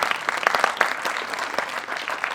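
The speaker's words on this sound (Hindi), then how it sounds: "जोरदार तालियां।" Loud, dense applause from a theatre audience at a stage play, a steady wash of many hands clapping together with no voices over it.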